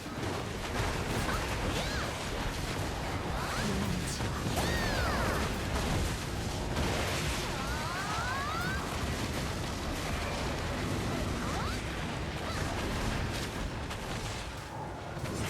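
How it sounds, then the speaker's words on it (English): A boss in the Black Desert video game bombards the arena with area attacks, producing a steady stream of crashing impacts, whooshes and explosive bursts layered over a busy combat backdrop. "the boss will be bombarding the arena with AoE"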